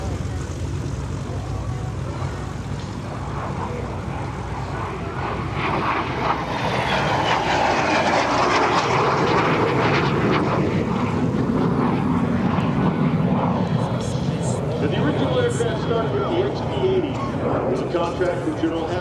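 A Lockheed T-33 Shooting Star jet passes at an air show, its engine roar swelling loudly and sweeping past over several seconds while an announcer talks over the PA.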